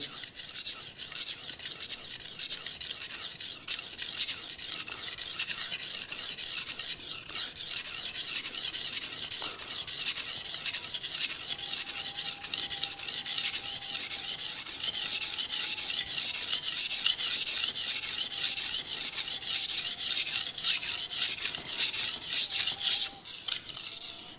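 A knife blade is sharpened on a stone with steady back-and-forth strokes, a continuous raspy scraping that runs for the whole stretch at moderate level, with no talking.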